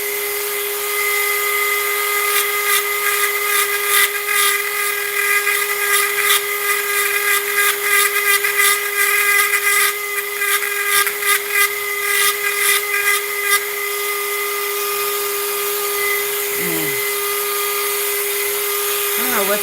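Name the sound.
Dremel rotary tool running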